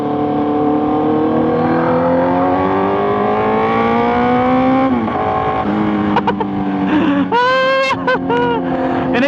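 A Kawasaki Z900 inline four-cylinder motorcycle with a full-system titanium exhaust revs loud and close, its pitch climbing steadily, dropping briefly, then rising again in sharp blips toward the end.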